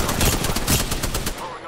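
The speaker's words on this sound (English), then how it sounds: "Target spotted. Taking shots." Sustained machine-gun fire in the shooter Apex Legends, a loud, fast stream of shots that tapers off near the end, with game sounds around it.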